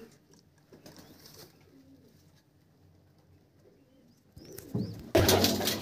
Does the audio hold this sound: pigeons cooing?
yes